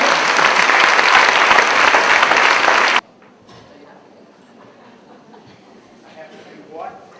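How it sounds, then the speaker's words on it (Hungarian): An audience applauds newly qualified directors at a 2007 event in Budapest, with loud, dense clapping for about three seconds that stops abruptly and leaves faint room noise and quiet murmuring. "ezt a néhány újonnan minősült direktort tapsoljuk meg, megérdemli"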